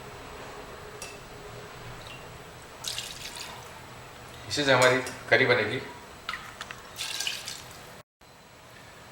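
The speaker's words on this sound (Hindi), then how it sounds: "मटन का स्टॉक यानी कि जो पानी बचा हुआ था उसे पूरा मैंने डाल दिया है" Leftover mutton stock splashes into a pot of curry amid clanking pot and utensil sounds, close by, while someone talks over it.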